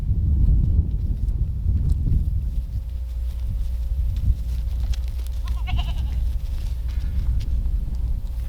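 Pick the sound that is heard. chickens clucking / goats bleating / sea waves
goats bleating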